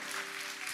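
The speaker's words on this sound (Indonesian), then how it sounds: "Yang percaya berikan tepuk tangan yang paling meriah" Congregation applause at a church sermon, a steady wash of many hands clapping together, dense and sustained for under a second.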